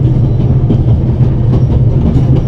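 Steady rattling of a train carriage rolling over rails in the game The Raven: Legacy of a Master Thief, a continuous loud low rumble with a faint rhythmic clickety-clack and no voices.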